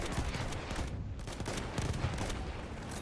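Rapid bursts of automatic gunfire and overlapping shots in an 8v8 multiplayer shooter match, loud and continuous with dense crackling volleys throughout.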